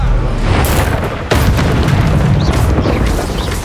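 A Bombarda spell blast in Hogwarts Legacy hits as a loud booming explosion with crackling debris, followed by a dense, sustained rumble of battle effects.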